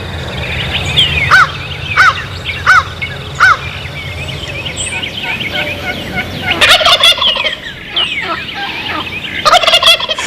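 A wild turkey gobbler sounds off in a series of loud, rattling gobbles, with sharp bursts repeating roughly every second at first and then a louder cluster later, heard outdoors with no voices.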